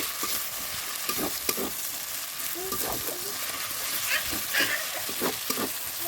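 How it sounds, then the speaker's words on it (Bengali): Ginger-garlic paste and turmeric with chicken masala are stirred in a hot pan, a close sizzling hiss with repeated scraping strokes, while a voice talks faintly in the background. "আদা রসুনের বাটা দিয়ে ভালোভাবে নেড়ে নেব"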